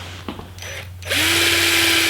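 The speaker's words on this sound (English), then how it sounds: "And drill a hole over here and work my way back." A power drill whirs up to a steady high-pitched spin and holds for about a second while drilling a hole in a vehicle quarter panel for armor installation, after some brief handling noises, over a low electrical hum.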